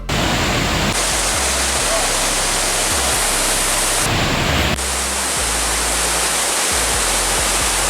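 Waterfall at a scenic spot in Bali, a steady loud broadband roar of falling water that fills the whole clip, with a brief shift in tone partway through but no pause.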